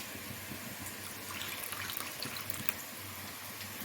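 Dissolved tamarind water being poured into a masala for eel fish curry, a steady close trickling and splashing of liquid that lasts throughout at an even, moderate level.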